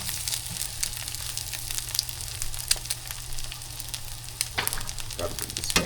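An egg fries and burns in an overheated pan, giving a constant close sizzle and crackle with occasional sharper pops and scraping, and no one speaks.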